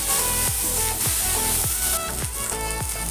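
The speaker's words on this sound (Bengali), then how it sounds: "আলুটা একটু ভাজা ভাজা করে নেব" Cut potato pieces fry in a pan with a steady, loud sizzle, while a regular thumping beat of background music runs through it.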